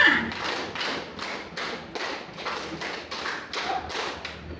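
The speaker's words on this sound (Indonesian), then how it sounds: "2 kali tepuk 5." A group claps in a steady pattern of broadband bursts, two sets of five claps in even rhythm, fairly loud and close, with no talk over it.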